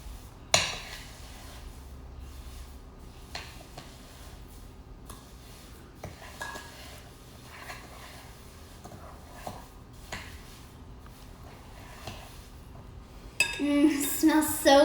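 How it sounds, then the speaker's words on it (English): Lemon sugar scrub being stirred in a bowl with a utensil, giving soft, steady scraping and gritty rubbing with occasional light clinks, fairly quiet, ending in a brief burst of louder clattering. "Now we want to mix it in."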